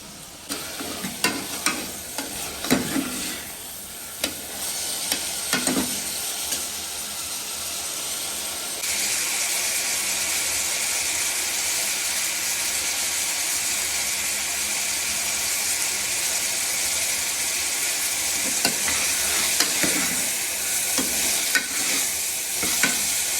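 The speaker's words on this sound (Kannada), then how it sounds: "ಸ್ವಲ್ಪ ಸಾಲ್ಟ್ ಹಾಕಿ ಫ್ರೈ ಮಾಡ್ಕೊಳ್ಳಿ" Onions sprinkled with salt fry in a pan for tomato rice, opening with scraping stir strokes over a sizzle. This gives way to a louder, steady hiss of frying with more stirring later, and no talk.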